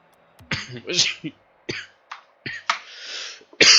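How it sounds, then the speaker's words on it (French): Several short, harsh coughing bursts come in quick succession, close and fairly loud, separated by brief pauses. "Désolé, j'en ai marre de tousser."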